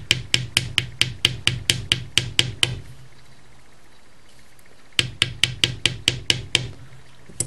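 Light hammer taps on wire for teardrop earrings, a quick even series of sharp metallic strikes, a pause of about two seconds, then another run of taps, close and clear.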